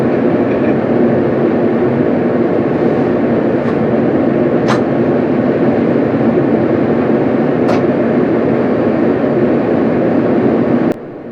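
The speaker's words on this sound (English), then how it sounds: "We are now arriving at Stourbridge Junction." Passenger train rumbling steadily into Stourbridge Junction station, a continuous loud rolling roar with a few brief sharp clicks and squeaks, ending with an abrupt drop near the close.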